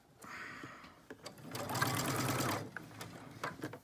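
A sewing machine stitches a fabric face mask in a short burst of close, steady whirring that builds and then stops, with small clicks and handling noises around it.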